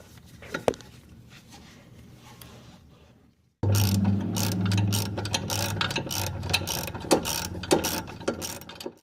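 A 17mm wrench ratchets as it tightens a bolt while new KYB shocks and Tein lowering springs go onto an Infiniti G20, a steady run of close, quick clicking after a short quieter stretch.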